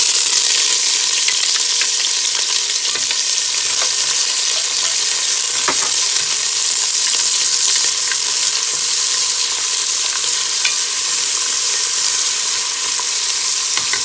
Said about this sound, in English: That will sizzle the onions and everything.